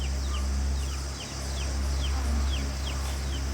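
Chickens roosting in a tree give repeated short clucks and chirps over a steady low hum and hiss, the calls fairly faint and spread evenly through the stretch.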